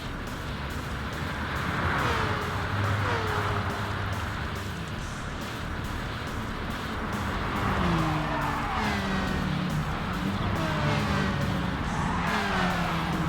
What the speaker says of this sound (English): So this engine is a V4, a 6-speed transmission in this.